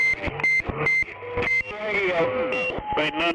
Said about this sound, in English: Eat my Roger beep